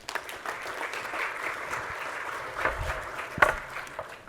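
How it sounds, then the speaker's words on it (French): An audience at a talk claps in a steady, moderate round of applause lasting several seconds, heard from within the room with a few louder claps near the end. "Bon, eh ben on peut les applaudir"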